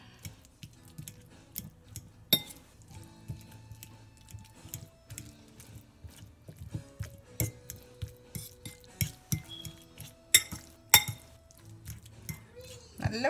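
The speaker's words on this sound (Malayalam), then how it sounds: "ഒരു ഫോർക്ക് എടുത്ത് ഇത് നന്നായിട്ട് മാഷ് ചെയ്ത് കൊടുക്കാം" A fork mashes avocado with half a lime squeezed over it for guacamole, giving soft repeated clinks and scrapes against a bowl in an uneven rhythm, with occasional sharper metallic taps, close and fairly quiet.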